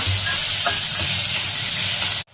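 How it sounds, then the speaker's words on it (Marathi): Chopped onion sizzles steadily in hot oil in a pan while it browns for a bombil (Bombay duck) masala, a dense continuous frying hiss that cuts off abruptly at the very end. "कांदा चांगला लालसर भाजत आला."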